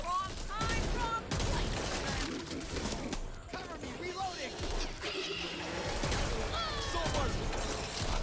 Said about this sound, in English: This is the highest powered shotgun in the game. And you're just non-stop firing it with unlimited ammo.